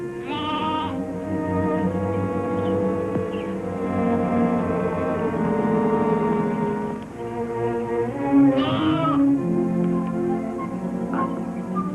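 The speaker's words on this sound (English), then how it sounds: "I hate sheep, I tell you." Sheep bleat repeatedly and loudly in a continuous, overlapping chorus, several animals calling at once with wavering, nasal cries that swell and fade over the full stretch, no voices in between.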